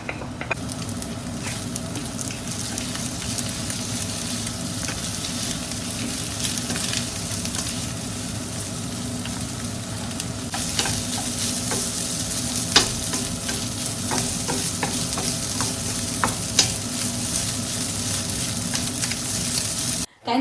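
Rice frying and being stirred in a pan, a steady close sizzle running throughout with frequent scraping and clinking of the utensil against the pan, no voices.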